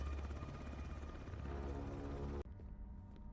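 Helicopter flying, a loud steady rotor and engine drone that cuts off abruptly near the end, leaving quieter background sound.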